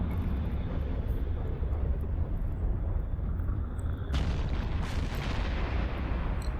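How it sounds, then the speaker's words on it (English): A continuous low rumble of explosions in the space game Eve Online, with a sharp burst near the end, dense and booming like distant artillery. "Pretty explosions."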